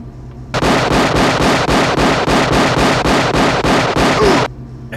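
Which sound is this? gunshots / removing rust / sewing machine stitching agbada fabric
gunshots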